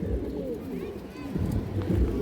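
Giribaz high-flyer pigeons coo softly and repeatedly close by, with someone talking over them throughout.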